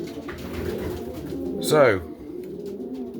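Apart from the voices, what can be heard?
racing pigeon cockbirds cooing in the loft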